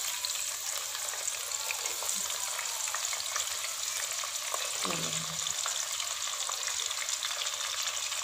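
Chopped onions frying on low heat in a pan for chicken karahi, a steady even sizzle heard close, with a brief low tonal sound near the middle.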